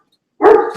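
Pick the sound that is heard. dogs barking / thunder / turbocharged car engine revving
dogs barking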